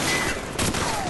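Sustained covering gunfire in the Call of Duty 4: Modern Warfare mission "Ultimatum", a steady dense fusillade of rapid shots with a couple of sharper bursts near the middle, loud and continuous for the whole moment.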